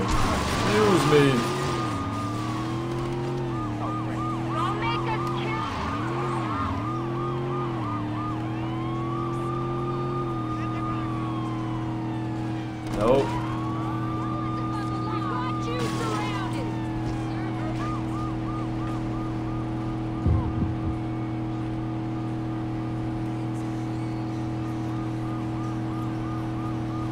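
A police car siren wails and sweeps continuously over a steady revving engine drone in the video game Saints Row 2, loud throughout with a few brief crash thumps, and someone talks over it.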